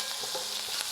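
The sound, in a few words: cumin seeds, curry leaves, asafoetida and green chilies sizzling in hot oil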